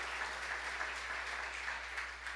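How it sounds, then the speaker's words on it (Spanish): A church congregation applauds during a sermon, steady, moderately dense clapping heard faintly and at a distance over a low electrical hum, continuing throughout with no talking. "Denle un aplauso al Señor"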